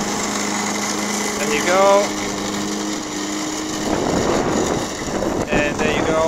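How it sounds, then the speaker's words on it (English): A very cheap robotic lawn mower runs on its own across a lawn, its steady whirring engine hum continuing under outdoor wind noise while someone speaks briefly over it. "you let the lawn mower do his job by itself"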